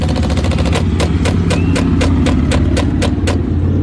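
A Chinese copy of a Spyra water gun fires in a rapid, even series of about a dozen sharp pulses over a steady mechanical hum, close and loud.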